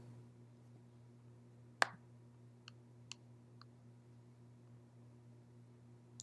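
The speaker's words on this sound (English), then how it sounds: "While holding in Command, I'm going to click on these articles' titles." Sharp mouse clicks land on article titles in a browser, one loud click followed by several fainter ones spaced a second or so apart over a steady low hum.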